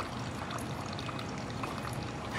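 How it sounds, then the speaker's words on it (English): Wine pouring into a glass from a dispenser that uses argon gas, a close, steady, continuous splashing pour lasting the whole moment with no speech. "So we can pour a glass of wine."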